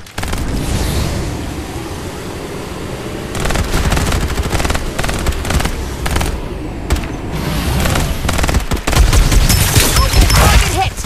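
Intense gunfire exchange in the video game Farlight 84: rapid automatic bursts and heavy shots crackle in dense clusters, with booming impacts and a louder stretch of continuous firing toward the end.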